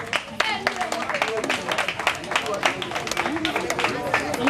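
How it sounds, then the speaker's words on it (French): Applause at a 25th-anniversary celebration greets a performer introduced as a one-man band, with clapping running under continuous speech and crowd noise for the whole stretch. "sous vos applaudissements."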